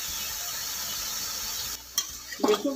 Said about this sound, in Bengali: আমি 5 মিনিট মতো ভেজে নেব।